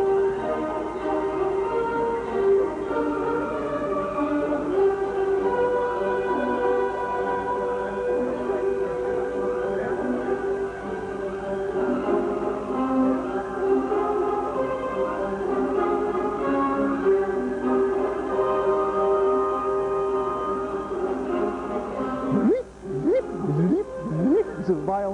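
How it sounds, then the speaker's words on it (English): A recording of Wagner's Ride of the Valkyries plays steadily at moderate volume, orchestra and soaring sung voices layered together, with a sharper swelling passage near the end. "But you got to hear the Valkyries sing."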